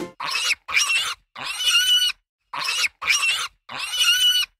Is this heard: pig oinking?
yes